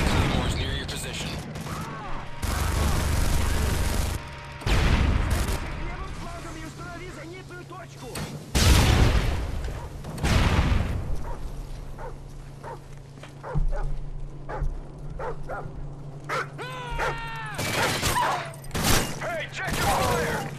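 Call of Duty MW3 survival match on the Outpost map with bursts of automatic gunfire and heavy explosion blasts, loud and repeated, mixed with game voices and a barking dog.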